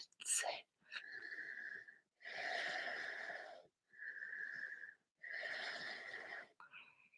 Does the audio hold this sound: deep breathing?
yes